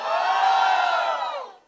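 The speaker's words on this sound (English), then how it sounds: "How many South Indians are there? Can we have a cheer?" A large live audience at a comedy show on the North versus South Indian rivalry cheers and shouts together in one loud, sustained roar that rises quickly and fades out over under two seconds.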